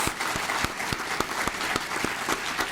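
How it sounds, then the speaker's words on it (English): Applause from an audience at a Tyler ISD Career Technology Center health science event, a fairly steady patter of clapping with several sharper individual claps standing out, moderately loud and without speech. "Please give her a big round of applause."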